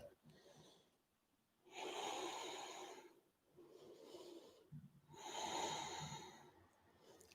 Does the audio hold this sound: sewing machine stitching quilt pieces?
no